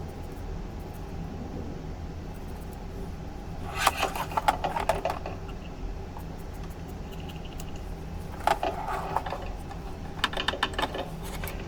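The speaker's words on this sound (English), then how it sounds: "Now the machine is going to tack down the stitch and stitch in the piece and template" A SEWTECH embroidery machine with a magnetic hoop stitches a pieced fabric project and template, giving faint bursts of rapid mechanical needle ticking in two or three short runs over a low steady hum.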